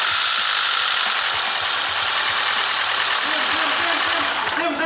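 A car with a G4NG engine starts for the first time after repair, running loud and continuous at close range with an uneven low rumble.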